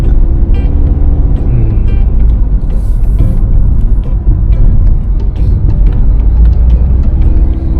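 A pickup truck being converted into a sleeper vehicle climbs a steep road toward Khun Dan Dam. Its engine gives a loud, continuous, close rumble with rattling throughout.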